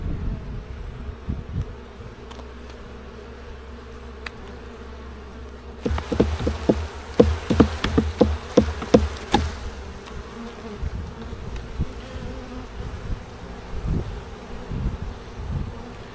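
Honeybees buzz steadily during a July beehive inspection, the hum swelling louder and busier midway through with scattered light handling clicks.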